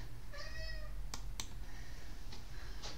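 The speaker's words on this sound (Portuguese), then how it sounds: "Tá miando para abrir a porta." A cat meows to have a door opened, giving one clear, fairly close meow followed by a couple of sharp clicks and a fainter second meow against a quiet room background.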